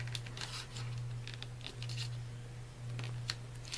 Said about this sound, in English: Crease it on the other way.